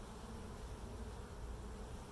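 Bees buzzing inside a hive: a faint, continuous low drone of many insects, close and even throughout, with no voices.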